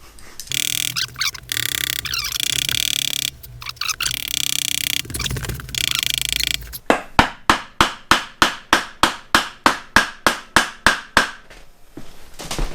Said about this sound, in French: Précise que je tape avec un maillet mou.